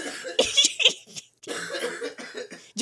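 A person coughs in a quick cluster of harsh, close bursts, then breaks into a longer, rougher coughing spell after a brief pause.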